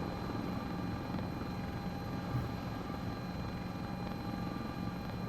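CowanSim S-76 helicopter at near full speed in the flight simulator MSFS 2024, a steady, dense rotor and turbine drone with a constant whine that holds unbroken and loud throughout.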